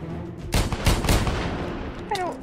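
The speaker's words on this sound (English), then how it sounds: "I hear your gun." Gunfire in the Minecraft video game during a zombie prison breakout, a few loud broadband bursts clustered near the middle, followed by a brief warbling tone.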